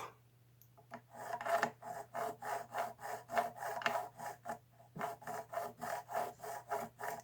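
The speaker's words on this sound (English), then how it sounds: "I'm just letting the weight of the file kind of just sit in the nut. Because I'm not trying to cut the nut, I'm just trying to clean it up." A file rasps back and forth in the nut slot of a Helios guitar during setup, a steady rhythmic series of close, light rubbing strokes with brief pauses and a faint constant hum underneath.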